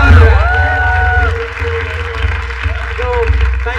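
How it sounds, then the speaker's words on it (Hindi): Studio audience applauding and cheering loudly at a comedy show, a dense sustained wash of clapping and crowd noise with whoops, while people talk over it. "तो एक बार जोरदार तालियां बजाओ।"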